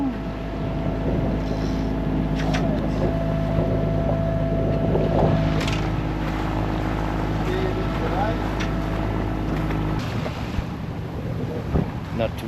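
Aboard a 32ft sailboat under way in Denmark, wind buffets the microphone over a rushing wash of water and a low steady hum, with faint voices now and then.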